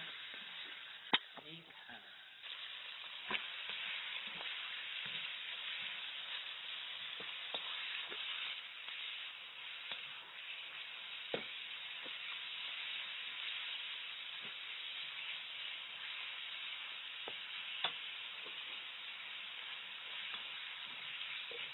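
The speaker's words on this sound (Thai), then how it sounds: "ผัดหมูไปให้สุกนะคะ" Pork stir-frying in a pan for a spicy bamboo shoot dish, a steady close sizzle with scattered scrapes and clicks of stirring, while someone speaks.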